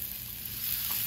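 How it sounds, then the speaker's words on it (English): Pork medallions sizzle steadily on a Blackstone griddle, a soft, even frying hiss held close with no talk over it. "Hear that sizzle on there?"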